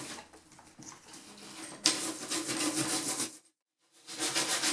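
Rough scrubbing and rubbing on an old East German military helmet to strip off grime, a steady rasping friction that grows louder partway through, stops briefly, then resumes, with no talking.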